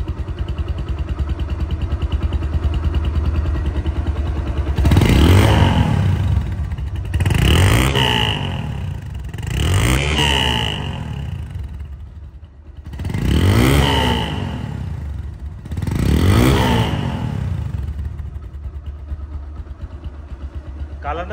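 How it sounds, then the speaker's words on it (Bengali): Second-hand motorcycle engine running after a kick start, idling steadily then revved about five times in strong, rising-and-falling bursts, close to the microphone. "দেখেন প্রথম কিকই কিন্তু স্টার্ট হয়ে গেছে"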